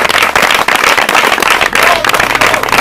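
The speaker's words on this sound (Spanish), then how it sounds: "Dale un aplauso para Dios." A church congregation breaks into loud, dense applause for God, with sustained clapping from many hands filling the room and a few voices mixed in.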